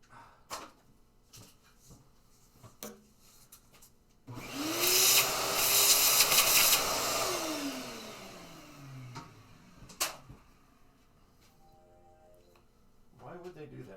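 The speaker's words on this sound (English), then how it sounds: "Where is my vacuum cleaner here? I'll clean up the glass." A household vacuum cleaner switches on and runs loudly for several seconds while cleaning up broken glass, its motor whine rising, then winding down; clicks and handling knocks before and after, with a voice talking at times.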